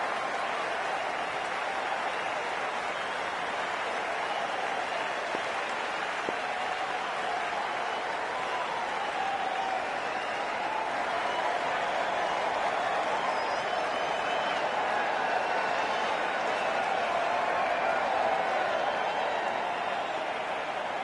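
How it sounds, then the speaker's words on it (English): Stadium crowd at a cricket match, a steady continuous roar of cheering and applause from the stands, fairly distant and sustained throughout without pause. "It's the most enthusiastic crowd you could ever see right now. There's a buzz, a real buzz coming from the stands."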